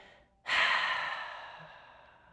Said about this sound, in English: As the hands come to heart center, exhale it all.